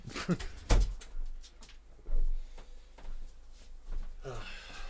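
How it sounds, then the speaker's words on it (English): A dog whimpers and snorts indoors in a few scattered bursts, near and moderately loud, with faint rustling between the sounds. "that dog is persistent. The dog. Fine, I'll let him in."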